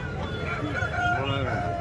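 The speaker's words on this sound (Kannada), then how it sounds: "ಹಾಗೆ ಪಕ್ಕದಲ್ಲಿ ಒಂದು ಹುಂಜ ಇದೆ" A rooster at a village chicken market crows nearby, a drawn-out wavering call rising over a background of market murmur and clucking, with voices faintly audible.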